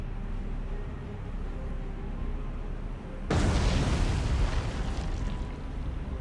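Torpedoes strike ships in the War on the Sea naval video game, a loud sudden broadband blast at about three seconds that swells into a sustained rumbling roar over low ambient sea noise.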